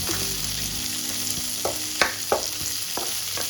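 Onions sautéing in a pan for vegetable kurma: a soft, steady sizzle with a few sharp spatula taps and scrapes against the pan toward the end, close by and with no talking.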